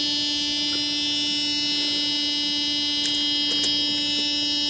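A fuel pump on a 1988 Mercedes E 300 hums with a steady tonal whine as it pressurizes the fuel system, joined by a few faint clicks near the end.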